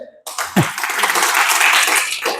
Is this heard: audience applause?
yes